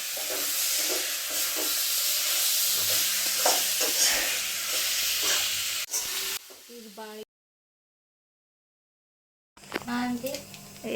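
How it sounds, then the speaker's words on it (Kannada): Brinjal curry sizzles and is stirred in a pan in a home kitchen, a steady frying hiss with scraping stirs under people talking, then the sound cuts off briefly before resuming. "ನಮ್ಮ ಆಂಟಿ ಬದ್ನಿಕಾಯಿ ಪಲ್ಯ ಮಾಡತ್ತ"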